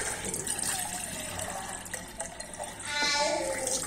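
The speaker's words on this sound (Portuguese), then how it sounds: "Vou colocar água aqui para esquentar." Water pours into a pot to be heated, a continuous splashing, trickling stream with rising filling tones, fairly close, while someone talks faintly over it.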